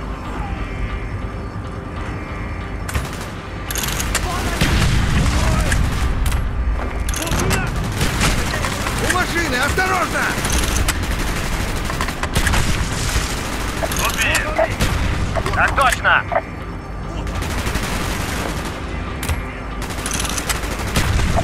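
Heavy gunfire and booming explosions from the Call of Duty: Black Ops video game, rapid bursts and blasts continuing throughout, with shouted voices over the combat.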